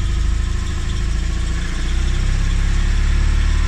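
An Invacar's engine idles while warming up, a steady, close, throbbing low rumble that holds even throughout with a slight lift near the end; no one speaks.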